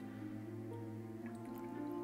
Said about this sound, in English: let me pour the rest of my soda out